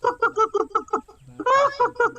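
A rooster squawks loudly in a rapid run of harsh, cackling cries, with a longer shriek near the end, all close and alone.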